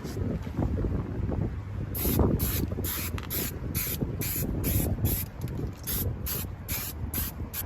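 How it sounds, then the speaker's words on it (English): An aerosol can of tire shine hisses in a quick series of short, evenly spaced bursts, sprayed close by onto police car tires over low wind and background rumble. "I have some spray here. I'm gonna tire shine some cop cars."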